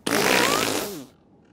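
Cartoon fart sound effect in a Spanish-language dinosaur animated series, one loud, drawn-out flatulent blast of about a second that wavers and sinks in pitch before cutting off, heard alone.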